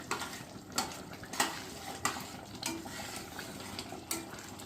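A spoon stirring thick mung dal with fish head in a pot, with scraping strokes and soft knocks against the metal at an uneven rhythm, close by.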